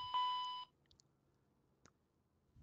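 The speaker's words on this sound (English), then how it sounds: "the aircraft gave us some alarm bells" A CRJ airliner's cockpit warning alarm in Microsoft Flight Simulator 2020 sounds once as a loud, brief electronic tone, then cuts off, leaving a quiet cockpit with a few faint clicks.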